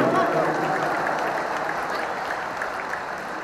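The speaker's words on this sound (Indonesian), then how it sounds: "Tepuk tangan buat semua yang hadir di sini." Huge stadium crowd at a Jakarta campaign rally applauding and cheering in a loud, continuous roar, with a voice faintly audible beneath the noise.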